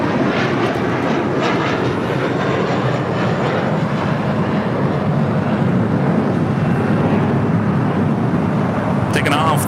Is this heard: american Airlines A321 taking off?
yes